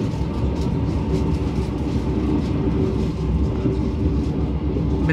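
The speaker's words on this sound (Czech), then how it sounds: "Regio Panter Andulka na osobním vlaku" A Regio Panter passenger train leaving Teplice in northwest Bohemia rolls on steadily, with a loud, continuous rumble and rail clatter throughout and no talking.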